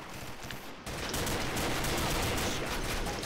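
Gunfire in the online shooter Combat Arms: a quiet stretch gives way abruptly to a dense, continuous wall of rapid shots and automatic fire that stays loud and unbroken through the rest.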